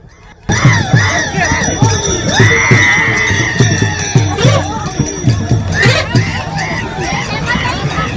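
Crowd of pilgrims at Dive Ghat on the wari procession cheering and shouting together, a loud dense babble of many voices with rhythmic drum-like beats and occasional raised calls, continuous throughout.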